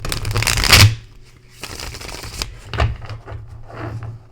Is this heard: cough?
no